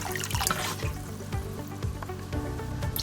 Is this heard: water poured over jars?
yes